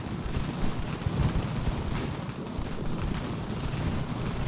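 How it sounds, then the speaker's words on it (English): Musket and cannon fire from the video game Ultimate General: American Revolution rumble in a continuous, dense, booming wash of distant battle noise that stays fairly even throughout. "Now, gunfire is a bit loud."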